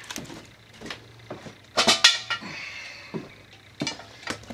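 Metal clanks and clatters as an oven is lifted off an outdoor rocket stove and a canner is brought over. Several sharp, close knocks come in irregular bursts, with quieter scrapes between them.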